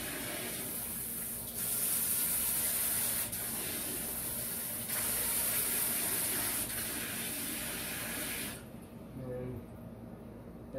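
A KAIYING handheld bidet sprayer sends a hissing spray of water in several pulses of changing strength before cutting off, close by, with someone talking over it.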